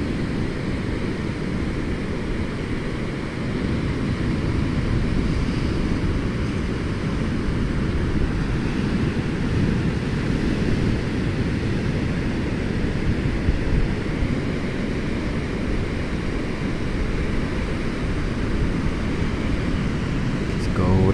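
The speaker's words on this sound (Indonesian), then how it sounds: "Ombaknya besar banget guys" Big waves breaking at Kerbau beach in Munjungan, Trenggalek, a continuous low roaring surf with wind rumble that stays loud and steady throughout.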